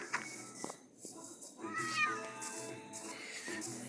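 A cat meows inside a video game, a few short mewing calls at moderate volume against a busy backdrop of game sounds and faint ambience.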